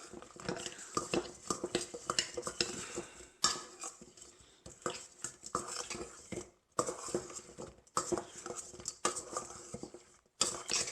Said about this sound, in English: take the final 12 wings and put them in the sauce and give them a toss around